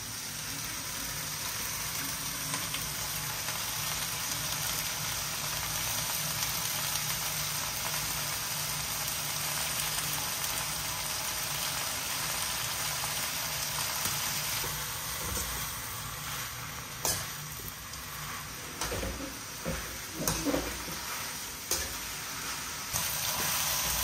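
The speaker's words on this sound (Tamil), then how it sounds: "நம்ம கழுவி எடுத்து வச்சுருக்க அந்த ஒரு கட்டு புளிச்சக்கீரையை சேர்க்குறோம்" Gongura (sorrel) leaves fry in a pan for dal with a steady, hissing sizzle like light rain, joined later by a few stirring knocks and scrapes; no voices.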